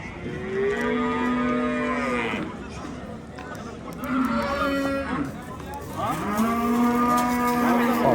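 Cattle low repeatedly at a livestock market in Termez, Surkhandarya: long, drawn-out moos, some overlapping, close and loud over a steady murmur of crowd noise.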